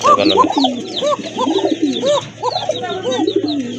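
A red Koka pigeon coos loudly and close by, a series of rolling, swooping throaty calls repeating in quick succession with no pauses.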